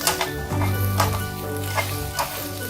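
Okra masala (bhindi) being stirred in a hot pan, a continuous sizzle broken by several scraping strokes of the spoon at close range, with no talking.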